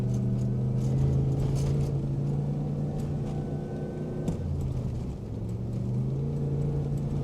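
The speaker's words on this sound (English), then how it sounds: "It's just staying in first gear for some reason." A Cadillac Escalade drives while stuck in first gear, its engine holding a steady low drone with a continuous rumble and slight swells in pitch, close and fairly loud with no talk.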